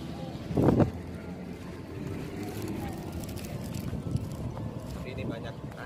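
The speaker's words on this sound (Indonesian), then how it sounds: "Ini banyak angin loh." Strong wind buffeting the microphone outdoors by the southern sea near Yogyakarta, a rough continuous rumble with a sharp gust early on and faint voices underneath.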